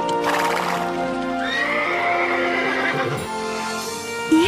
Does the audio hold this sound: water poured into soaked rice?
no